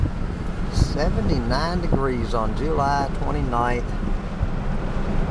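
Wind buffets the microphone in a steady low rumble on a ridge top while someone talks over it throughout.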